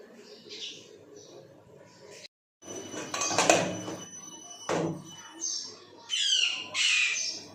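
Mithu, a pet parrot, lets out loud, harsh screeches in repeated bursts nearby, amid clattering of pots and dishes in a home kitchen, with a voice speaking at times.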